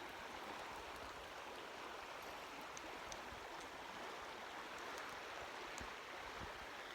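A river flows in a steady, quiet wash of water, continuous and unbroken throughout, heard from a little distance with no voices.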